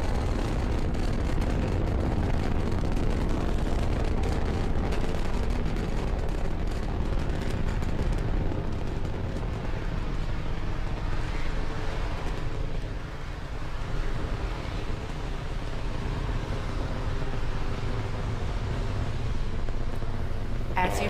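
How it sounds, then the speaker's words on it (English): SpaceX Falcon 9 rocket climbing after liftoff with the TESS spacecraft, a deep continuous rumbling roar that stays broad and loud throughout, with a brief dip midway. "Falcon 9 has successfully cleared the pad and is now on its ascent with the TESS spacecraft in its fairing"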